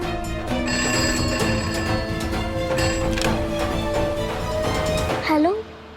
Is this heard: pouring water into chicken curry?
no